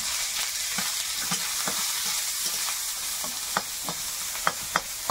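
Chopped onion frying in oil with whole cumin and bay leaf, a steady close sizzle and hiss with scattered scrapes and taps of a stirring spoon against the pan, no talking.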